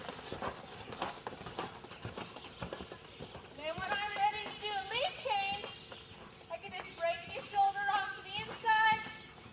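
Hooves of a horse loping circles in an arena, a steady rhythmic clip-clop close by, while a person talks over the footfalls throughout.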